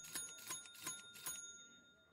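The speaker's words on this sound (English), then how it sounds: "Let's ring the bell too." A small bell in the video game Hearthstone is rung four times in quick succession, each strike a faint metallic ding with a short ring-out, and the last one fades into quiet.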